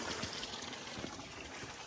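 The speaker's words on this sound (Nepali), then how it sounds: "यो चाहिँ पानीको मुख यस्तो रहेछ" Water runs steadily from a large outlet in a rural village, a continuous close trickle and gush with no talk over it.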